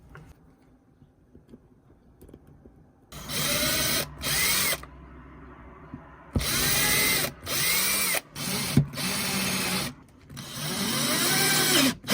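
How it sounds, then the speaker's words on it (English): A power drill whirs in several bursts, winding up and stopping repeatedly as it bores pilot holes for screws into wood, close by after a quiet start. "you need to pre-drill your holes for these screws or this wood might split."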